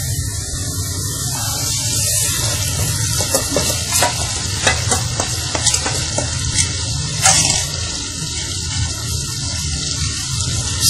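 Tomatoes and chili paste fry in a pan for spicy Schezwan chicken, giving a steady, close sizzle throughout, with a few scraping stirs and spatters rising and falling over it.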